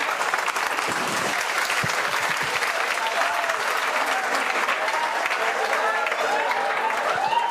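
Dense, steady applause from an audience at a public gathering on CET and youth issues, loud and continuous throughout with voices calling out over it in the later part.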